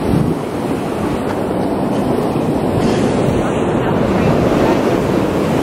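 Ocean surf washing onto a sandy beach at low tide, a steady broad roar of breaking waves with wind buffeting the microphone throughout.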